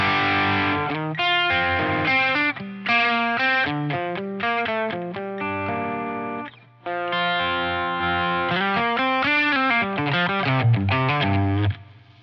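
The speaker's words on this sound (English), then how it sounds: "Distortion is backed off." Electric guitar played through a Boss DS-1X digital distortion pedal with the distortion turned down, giving mildly driven, sustained chords and single notes in a loose phrase, loud and close, with a brief gap midway.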